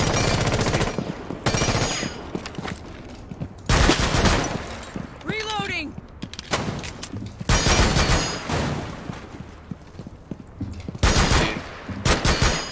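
Rapid automatic gunfire in Rainbow Six Siege on PC comes in loud sustained bursts separated by short gaps, with a player's voice talking between volleys.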